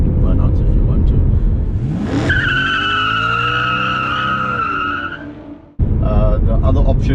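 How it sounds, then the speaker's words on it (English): A BMW E92 M3 doing a burnout: the engine revs climb sharply, then hold at a high screaming pitch with tire squeal for about three seconds before cutting off abruptly. Talk runs underneath at the start and resumes at the end. "and then you can do burnouts if you want to"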